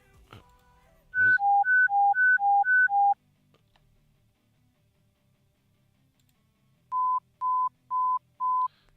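Radio dispatch alert tones from a GTA 5 roleplay game: a rapid run of alternating two-pitch beeps, then a short pause, then four evenly spaced single-pitch beeps, loud and clean over a quiet background.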